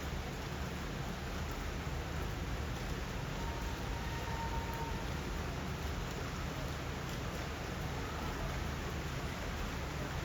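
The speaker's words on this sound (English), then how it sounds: "It's raining non-stop," Continuous steady rain in Malta hissing evenly throughout, a dense wash of drops with no letup.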